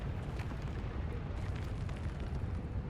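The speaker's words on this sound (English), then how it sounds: "Long-range artillery." A long-range artillery explosion in the Doma Castle battle of a fantasy video game, heard as a loud, sustained low rumbling boom that rolls on for several seconds without a break.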